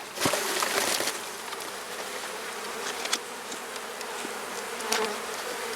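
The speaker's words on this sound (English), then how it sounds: "Still a few bees in this box, so I'm just going to leave it beside the hive." A dense, steady hum of many honeybees buzzing close by beside a hive, with occasional louder passes as individual bees fly near.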